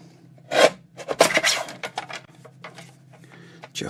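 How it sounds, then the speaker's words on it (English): Craft knife or scissors trimming excess matte paper layer from a journal cover, a series of short close scraping and rasping strokes of varying loudness with brief pauses between them. "Just trim off that matte layer."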